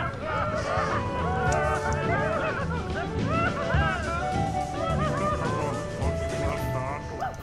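Bird creatures in Spore honk and squawk in a busy flock, with overlapping nasal goose-like calls rising and falling close by over a constant murmur of background noise.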